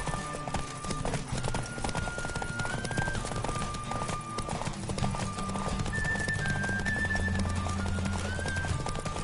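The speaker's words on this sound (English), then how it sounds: "Don't spare the horse!" Horse hooves clip-clop at a steady galloping rhythm in The Witcher 3 video game, with occasional whinnies and a rider's voice over continuous game music and ambience.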